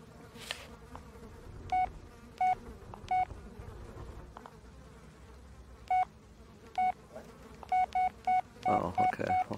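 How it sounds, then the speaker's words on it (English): A phone rings in the horror video game Blair Witch, sounding as short repeated electronic tone bursts that come in uneven clusters over a low ambient hum and a buzzing insect-like drone. A louder rustle comes near the end. "My phone's ringing."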